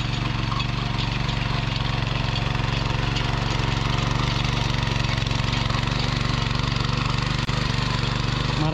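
A tractor engine runs steadily while ploughing a field corner, a low, droning mid-pitched rumble with an even throb that holds constant and fairly close, briefly interrupted by a small knock near the end.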